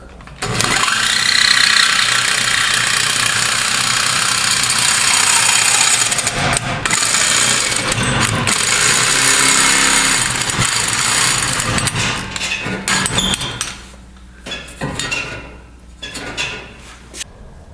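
A power saw cutting through a car exhaust pipe on a Firebird, a loud continuous harsh grinding whine for about thirteen seconds, then breaking into a few shorter bursts as the cut finishes.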